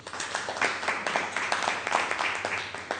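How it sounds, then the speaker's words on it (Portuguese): Applause at a formal gathering, a steady patter of many hands clapping at moderate volume, somewhat distant and continuous throughout. "forte aplauso para o trabalho com a diretriz"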